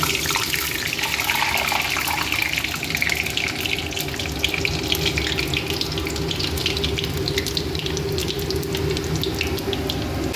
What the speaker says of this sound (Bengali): তো এখানে তেল গরম হয়ে গেছে, এবার এই পাঁচফোড়ন দিয়ে দিলাম।